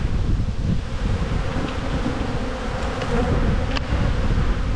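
Dense, steady buzzing of honeybees swarms around an open hive during an inspection, a continuous loud drone with no voices over it.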